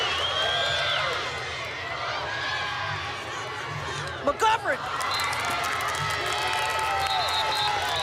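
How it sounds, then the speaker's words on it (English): Crowd at a North Carolina vs Virginia women's college lacrosse game cheering and shouting to rally the team, a steady roar with a few sharp whistles and yells, under an announcer's voice. "Hear the crowd trying to rally the team."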